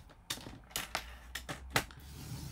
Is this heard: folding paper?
yes